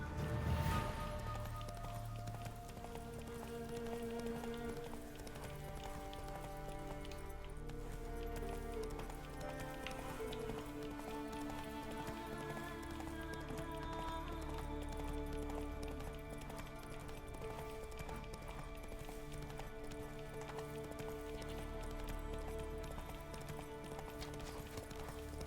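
Roach the horse gallops in a video game, a steady run of hoof clip-clops carried along beneath sustained music, moderately loud and continuous for the whole stretch.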